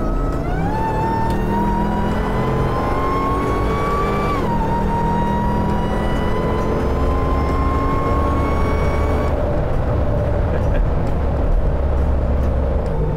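A Hellcat Gladiator truck accelerates through a cloverleaf at about 50 mph, its engine whine climbing steadily, dropping at a shift, then rising again under a constant road roar, loud and close from inside the cab.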